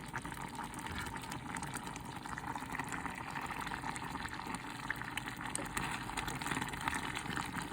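Fig jam infused with sweet pink sangria bubbles vigorously in a pot, giving a steady, dense simmering hiss with fine popping throughout, moderately quiet and even, no voices.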